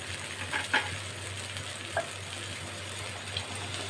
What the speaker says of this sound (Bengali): এবার এর মধ্যে আমি একটু জল দিয়ে দেব।